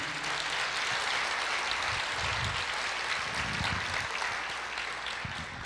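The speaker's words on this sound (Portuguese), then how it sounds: "pode aplaudir" A church congregation applauds with a continuous wash of clapping that fills the room at a steady level, while a low voice murmurs underneath in a few brief bursts.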